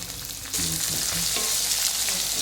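Two finely chopped onions go into a hot pan for puri bhaji and fry, and the quiet hiss jumps to a loud, dense sizzle as they land, then stays steady and close with light stirring.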